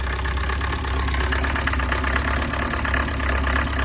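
A Mercedes 308D diesel motorhome engine idles roughly with air still in its fuel system, giving a steady, close, loud rumble with an uneven knocking pulse and no voices.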